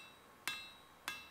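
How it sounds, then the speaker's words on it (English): Two sharp metallic heavy-hammer blows on a steel bayonet blade being forged, about half a second apart, each ringing briefly before fading, on a quiet background. "I'm using a heavy hammer and I'm putting in quite heavy blows."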